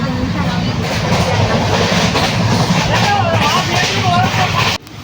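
Loud, continuous rumble of a moving train with rhythmic rattling and occasional squeals, heard from inside, with voices murmuring underneath.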